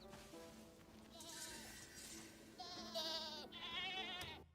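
Baby goats in the Crimson Desert video game bleat in several wavering, high cries that overlap and grow louder toward the end, with no talking.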